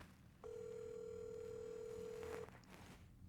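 A phone call to a broker rings out unanswered: a steady electronic ringback tone with faint higher overtones holds for about two seconds, then cuts off, over quiet room background.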